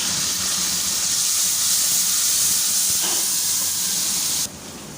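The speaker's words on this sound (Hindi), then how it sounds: "अब थोड़ा सा हम इसके अंदर पानी शामिल करेंगे" Loud steady sizzling hiss of water hitting a hot pan of ginger, garlic and minced meat, continuing strongly before dropping off abruptly near the end.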